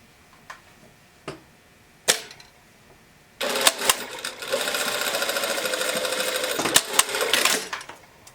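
A sewing machine stitches a folded sleeve seam: after a few isolated taps and clicks, the motor starts and runs in a fast, steady rattling burst for about three seconds, then stops, close and fairly loud.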